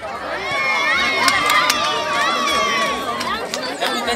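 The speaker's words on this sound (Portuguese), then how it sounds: "Torcida da Serrinha ali que bate, que vibra." Fans of an amateur football club cheer in an open-air arena beside a bar, producing a continuous roar of shouting and chanting with a few shrill whistles cutting through, while someone talks over the crowd noise.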